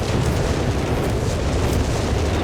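Rocket artillery whiz-bang explosions in Company of Heroes 3 form a dense, loud, continuous rumble of overlapping booms and blasts with no breaks.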